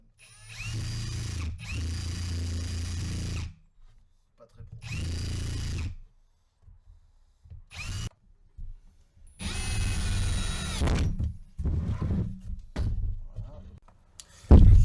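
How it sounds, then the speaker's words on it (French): A power drill bores small holes in wood for a queen-rearing hive box, in several loud, close whirring bursts separated by quiet gaps. "Allez, on fait deux petits trous."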